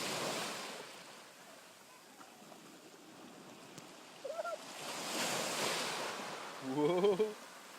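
Ocean surf washing onto a beach, a steady broadband rush of breaking waves with swells building and fading, close and moderately loud, with a brief voice and a short excited shout over the water near the end.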